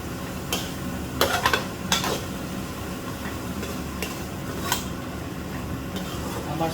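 A spoon stirring mixed dal with chili, coriander and cumin powder in a pan, giving soft scraping and a few sharp clinks against the metal over a low steady sizzle, close and fairly quiet.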